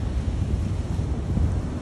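Ocean waves rise and break into white foam along the shore, a continuous rumbling wash mixed with gusty wind buffeting the microphone, close and steady without speech.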